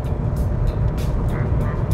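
A Mazda RX-8 with a Wankel rotary engine drives along, giving a steady low rumble and road roar from inside the cabin, with brief whooshing bursts recurring through it.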